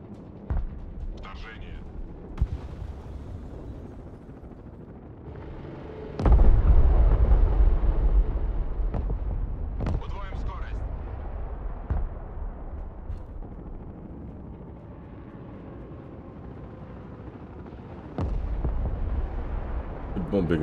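Bombs burst on an enemy spawn area in the real-time strategy game Broken Arrow: a heavy low boom near the start, another near the end, and scattered smaller blasts in between, over a continuous rumbling battle din.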